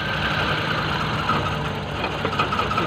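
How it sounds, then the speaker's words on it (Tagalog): Car engine misfiring from a defective ignition coil, running rough and labored with an uneven, stumbling rumble at close range, no voices over it. "nakita nyo, palyado ang makina. Yun. Walang pwersa."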